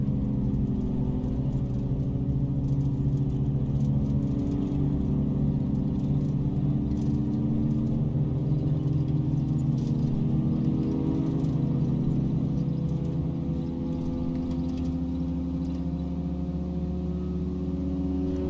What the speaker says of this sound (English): Enjoy the sounds of the aircraft.